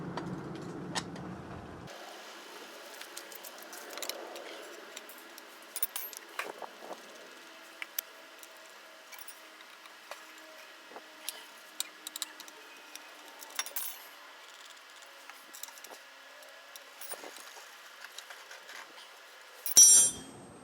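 Fork guard bolts being tightened on a WR250E motorcycle with a hand tool, giving short metallic clicks and ratcheting taps scattered across a quiet background, close up, ending in a brief louder clatter.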